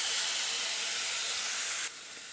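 Finely chopped green onion drops into a pan of sautéed ginger, chili and garlic, a steady loud hissing sizzle that eases slightly near the end.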